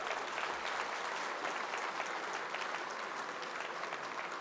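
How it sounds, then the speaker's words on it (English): Large audience applauding at a formal Tibetan commemoration ceremony, a steady dense wash of clapping heard from a distance, fairly faint and unbroken throughout. "I want the adults now to put their hands together and clap the young people here today."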